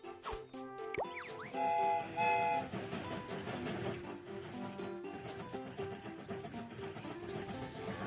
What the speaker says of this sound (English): The train is about to start.